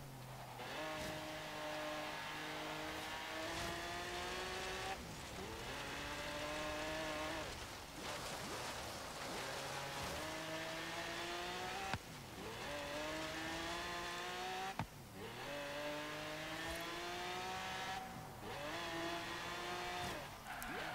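Engine of a 1967 Lamborghini Miura P400 on an autocross course in Forza Horizon, a loud, continuous, high-revving wail that climbs through the gears, with sharp drops at each shift and occasional tire noise.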